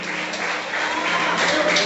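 Church congregation applauding during a prophetic conference service, a dense, steady patter of many hands clapping together that swells slightly toward the end.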